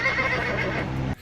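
A human voice imitating a horse's neigh gives a short, harmonic whinny-like call about a second long that cuts off abruptly, heard close and alone.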